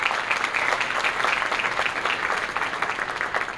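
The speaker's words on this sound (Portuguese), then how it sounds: "Mais uma salva de palmas" A crowd at a graduation ceremony claps steadily for a few seconds, a dense, moderately loud patter of many hands with no voices standing out.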